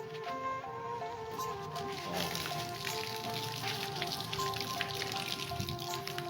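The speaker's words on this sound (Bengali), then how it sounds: "পাইপের পানিটা চালু দিবেন" Water runs steadily from a hose pipe, hooked up to flush a jet ski engine, making a continuous close hiss and patter with no pauses.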